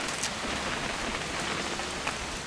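Steady rain falls in What Remains of Edith Finch, a dense even patter of drops on surfaces filling the whole moment, with no voices.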